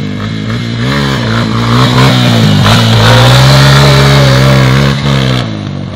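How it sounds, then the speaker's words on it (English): A Honda 250 Racing Edition ATV with a five-speed gearbox revs close and loud, its engine note climbing and holding steady in a sustained buzzing drone before easing off slightly. "Real nice little ATV."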